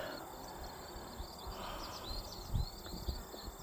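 Honeybees buzzing in an open hive during an inspection, a faint steady hum with soft high whines, a few low handling bumps and no talk.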